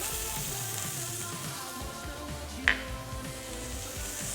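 Shallots and garlic sizzle in hot olive oil in a pan, a steady soft frying hiss with one sharp pop or tap partway through, cooking outdoors at a fishing and cooking session.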